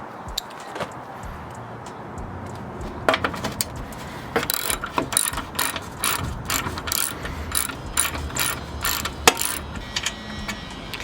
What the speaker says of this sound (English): I just took off a screw on the top, and I took off a screw from right here